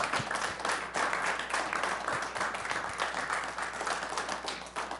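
A school board meeting audience gives students a steady, full round of applause, many hands clapping continuously and evenly throughout.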